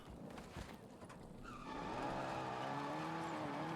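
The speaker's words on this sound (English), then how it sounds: "Let's get in the car and let's keep on moving" A car in the Warzone video game pulls away with a brief tire skid, then its engine hums steadily and grows slightly louder as it drives on, with no voices over it.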